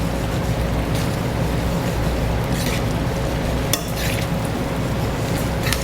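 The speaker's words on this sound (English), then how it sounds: "Make sure that you continuously stir this pasta." Pasta al pomodoro gets stirred in a pan loosened with pasta water, giving a soft, steady scraping and bubbling with a low sizzle underneath and an occasional light clink of a utensil against the pan.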